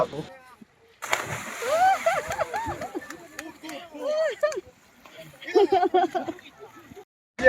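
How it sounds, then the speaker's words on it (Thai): People splash and play in river water on a floating party tour near Nha Trang, with bursts of splashing and sloshing between excited shouts and chatter, fairly close and lively throughout. "นี่ก็คือบรรดาผู้คนที่ลงไปแบบว่า เออไหว้ตุ๊บป่องตุ๊บป่อง เล่นน้ำกันอยู่ค่ะทุกคน"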